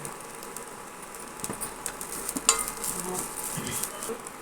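Soft, crackling sizzle of moringa leaves frying in a pan, with light stirring clinks and scrapes scattered throughout.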